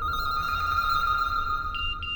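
A phone rings with a steady electronic ringtone, a sustained high tone that keeps going without a break, moderately loud and close.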